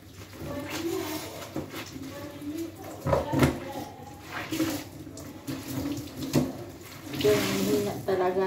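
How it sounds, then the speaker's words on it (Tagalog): A weak trickle of water runs from a tap during laundry washing, uneven splashing and sloshing near the sink, with intermittent handling noises and someone talking in the background. "Hina talaga ng water."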